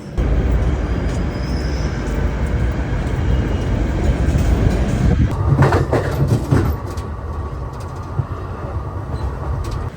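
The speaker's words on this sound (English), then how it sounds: "So we're gonna get the New Jersey Transit train." A New Jersey Transit commuter train rumbles loudly nearby with a steady roar as it arrives at a station, joined midway by clattering and squealing from the cars.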